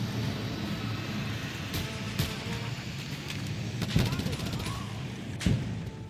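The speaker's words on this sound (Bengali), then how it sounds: "এই মিসাইলগুলো ব্লাস্ট করে দিই" Missiles blast in the Just Cause 2 game, sounding as muffled booms and gunfire-like cracks over a steady rumbling backdrop, with two sharper hits near the end.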